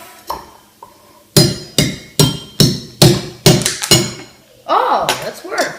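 A butter knife chips at a frozen block with a series of hard, clinking thuds in a fairly regular rhythm, loud and close, with a voice briefly heard near the end.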